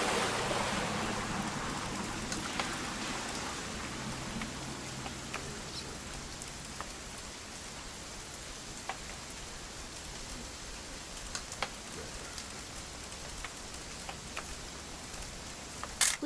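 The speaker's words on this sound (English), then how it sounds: "It's gonna rain the whole weekend," Steady rain falls over the whole stretch as a dense, even hiss with scattered louder drops.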